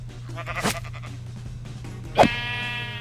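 A sheep in the Minecraft video game lets out a single loud bleat near the end, preceded by a softer short sound over a steady low background hum.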